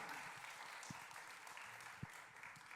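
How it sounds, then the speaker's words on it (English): Quiet applause from an audience at a university thesis competition, a faint, even patter of clapping heard from a distance, with a couple of soft thumps. "Yes, you can clap."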